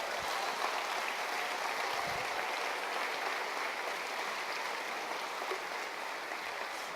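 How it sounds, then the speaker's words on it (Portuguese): Church congregation applauds during a sermon, a dense, even wash of clapping that holds steady throughout, moderately distant and with no talking over it. "Por favor, dê um aplauso ao Senhor."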